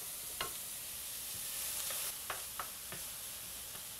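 Turkey, ground beef and onions browning in a pan for a cheeseburger pie give a steady low sizzle, with several light scraping stirs and clicks scattered over it and no talking.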